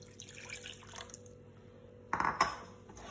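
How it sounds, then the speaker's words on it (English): Water and milk go into a pot of mushroom and oats soup, with faint trickles and then a couple of short, close splashes as the liquid is poured in. "So now let me put more water and milk."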